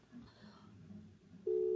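A phone call's dialing tone cuts in abruptly as a steady electronic tone near the end, after a few moments of faint, quiet talking.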